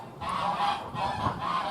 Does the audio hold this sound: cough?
no